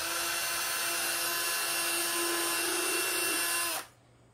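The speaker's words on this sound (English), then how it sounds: "put a couple screws in the front" A power drill whirs steadily while driving screws into a small wooden pumpkin tea light holder. The whine is loud and close, rises slightly near the end, then cuts off abruptly.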